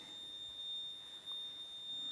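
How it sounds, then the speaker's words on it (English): A steady high-pitched fire alarm tone drones continuously in a quiet room of an abandoned hotel, faint and unbroken throughout. "Some form of fire alarm going off in here as well."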